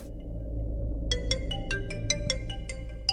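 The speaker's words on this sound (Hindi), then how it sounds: "किसका फोन आ रहा है मुझे?" An electronic phone ringtone starts about a second in and repeats in short, evenly spaced bright bursts over a steady low background hum.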